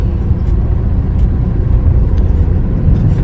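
A car on the move during a driving lesson, heard from inside as a steady low engine and road rumble that stays constant and fairly loud throughout, with no talking.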